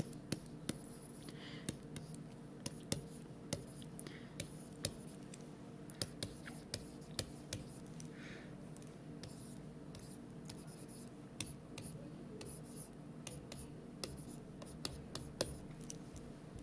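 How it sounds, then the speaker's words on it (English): A pen writing out the metric prefix conversion line by hand on paper, with steady scratchy strokes and frequent small taps across the stretch, close and fairly quiet, with no talking. "So I'll write it out and then I'll show you how I memorize it."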